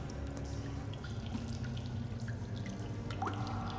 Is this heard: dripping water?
yes